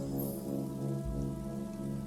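Steady rain patters over a deserted night street in the game Lovecraft Country, a constant hiss layered over a low droning hum and music-like tones, with no voices.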